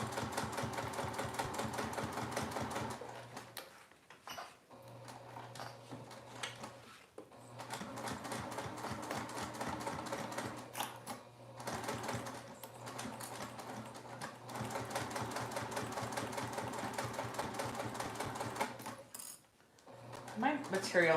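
A sewing machine stitches fabric with a shorter stitch length, running in steady whirring bursts up close, broken by several short pauses between runs.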